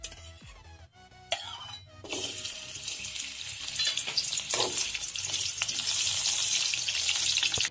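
Pieces of dried Bombay duck (bombil) drop into hot oil in a kadhai and fry with a loud, close, steady sizzle that builds after a few clunks from the pan at the start.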